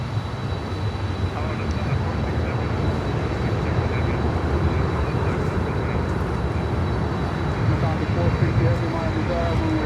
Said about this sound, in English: The next one is Lufthansa 350-900 from Munich.